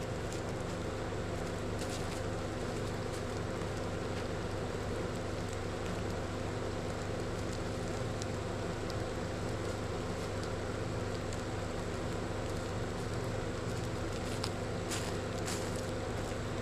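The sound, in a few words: rain falling outdoors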